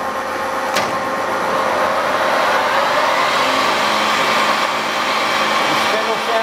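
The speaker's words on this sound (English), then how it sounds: "The spindle sounds pretty good." Spindle of a Cincinnati Cinova universal milling machine runs at 1530 RPM, a steady loud whine and hum with a sharp click near the start, in a machinery shop.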